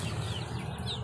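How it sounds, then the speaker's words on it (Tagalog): Organic laying hens clucking softly at close range, a brief cluster of low murmuring calls over a steady background hum. "My organic chicken and laying chicken."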